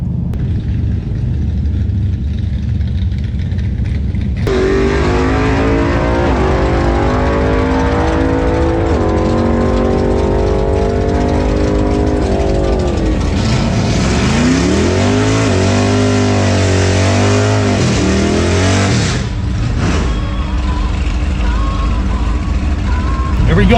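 A modified Dodge Dart on big tires revs hard, its loud, rough V8 engine note climbing and falling through several throttle blips, close up and continuous, with a second muscle car nearby at a drag strip.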